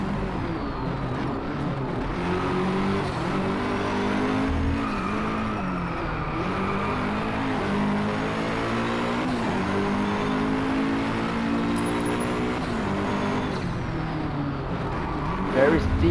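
A McLaren P1 hypercar in the racing game Driveclub, its engine droning and shifting pitch steadily while tires squeal through corners; the loud, continuous roar runs throughout with someone talking over it.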